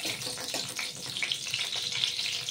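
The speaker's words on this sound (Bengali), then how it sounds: "তেল দিয়ে দিলাম শুকনো লঙ্কা। এবার আমি ফোড়ন দেব ডালের।" Dry red chillies and panch phoron sizzle in hot oil in a kadai, a brief, fairly soft crackling hiss with fluctuating bursts, close and without voices.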